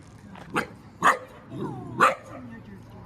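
A young dog lets out three sharp barks, spaced about half a second apart, close by with soft whining between them.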